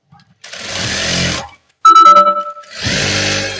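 A sewing machine stitches a nurse's uniform top in three close, loud runs, a short burst, then a longer one broken by a spoken pause, then a final steady run.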